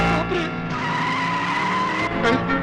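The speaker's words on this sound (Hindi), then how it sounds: "अरे ये गाड़ी कहाँ जा रही? ये तो शालो बेटे लेकर गई ना। अरे इसका ब्रेक फेल है" A runaway car with failed brakes skids in a Hindi comedy film scene, its tires squealing in a loud, sustained, wavering screech that rises again near the end.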